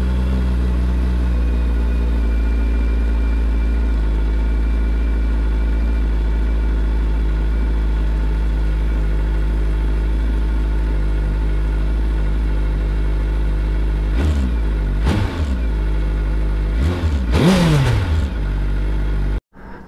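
A Suzuki Hayabusa Gen 3 GSX 1300 R motorcycle engine runs at a steady, loud idle, then gives a few sharp revs near the end before cutting off abruptly.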